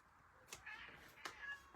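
A pet cat meows twice in the background, two short faint cries about three-quarters of a second apart over quiet room noise.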